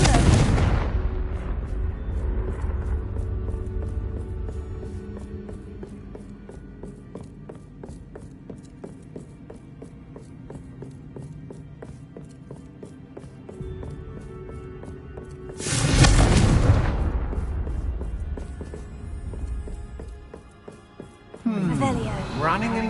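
Confringo explosion spells cast in Hogwarts Legacy inside a haunted Hogsmeade shop: a loud booming burst at the start and another midway, with a crackle near the end over a low game ambience.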